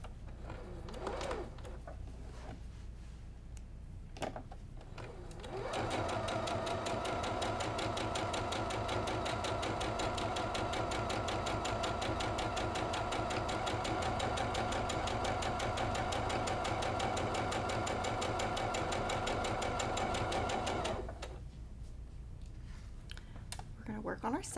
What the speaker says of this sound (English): We're going to flip that around and just stitch on the other side.